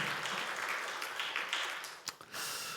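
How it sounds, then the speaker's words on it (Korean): A church congregation applauds during a Sunday service to bless a house church, a steady wash of clapping heard from a distance and fading slightly near the end. "박수로 우리 가정교회 축복합시다"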